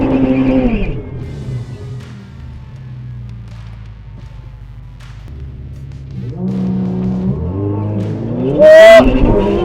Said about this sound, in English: Let's get these tyres hot.